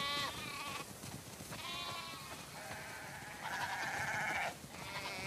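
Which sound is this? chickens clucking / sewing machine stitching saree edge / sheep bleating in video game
sheep bleating in video game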